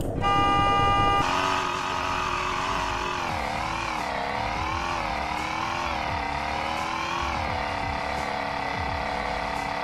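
Car horn test in the Roblox game Greenville: a short, loud, steady electronic horn blast at the very start, followed by a continuous wavering engine drone that rises and falls for the rest of the clip.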